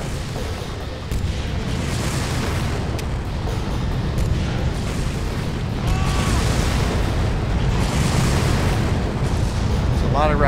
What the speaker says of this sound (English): It's a lot of rockets.